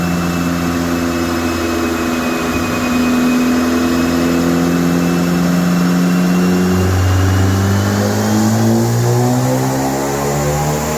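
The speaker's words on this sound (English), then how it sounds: "The car is running and I'm on the pedal" A Honda Civic Si engine with a flex fuel tune revs steadily up and down, its pitch climbing and falling in long sweeps, loud and close with no talking.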